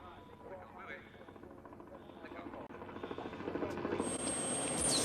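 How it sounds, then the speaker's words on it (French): A helicopter's rhythmic chopping grows steadily louder as it draws nearer, while people talk over it. "il y a un hélicoptère non identifié qui s'approche"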